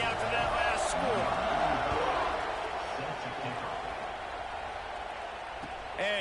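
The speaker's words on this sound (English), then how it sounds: "this crowd is buzzing after that last score" A stadium crowd buzzes steadily at a Nebraska vs USC college football game after a score, a dense, unbroken roar with a commentator talking over it throughout.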